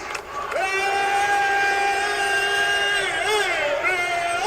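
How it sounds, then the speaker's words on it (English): A large wrestling arena crowd sings a sustained chant for Bayley in unison. The loud, tuneful mass of voices holds long notes, with pitch shifts and swells near the end. "The audience sang for so long that the WWE had to edit down their chanting"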